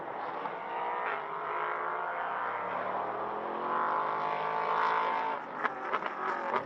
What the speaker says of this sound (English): sound of the cars through turn 13 and 14 is spectacular.